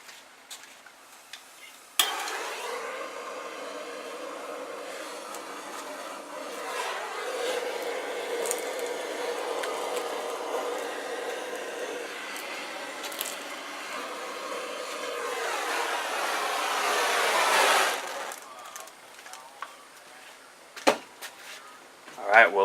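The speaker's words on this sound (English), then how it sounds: "You know what I like to use, my quick fire torch." A quick fire torch blasts flame onto charcoal kindling in a grill, a steady close roar and hiss that builds for about sixteen seconds before cutting off, followed by a few scattered clicks and knocks.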